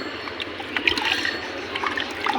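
A hand stirring medicine into water in a drum for pigeons, giving soft close sloshing and trickling with small splashes, no talk.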